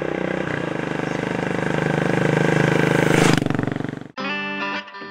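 A Continental GT cafe racer motorcycle engine revving loudly and close, the pulsing roar building for about four seconds before cutting off abruptly, followed by a brief steady tonal hum.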